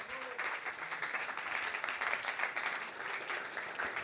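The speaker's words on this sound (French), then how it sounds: "vous l'applaudissez." An audience at a leadership colloquium in Avignon applauds a guest with steady, dense clapping that stays even and fairly soft throughout, with no voice over it.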